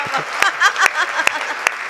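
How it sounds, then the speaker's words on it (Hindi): Audience applause at a Hindi poetry gathering, kavi sammelan, a short burst of crowd clapping with sharper individual claps standing out, and voices mixed in beneath. "तालियां जरा बजा दो एक बार हाथ उठाकर"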